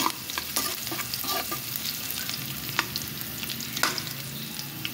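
Chicken pieces browning for adobo in a hot pan give a steady, close sizzle and crackle, with a few scraping stirs on top and no talking.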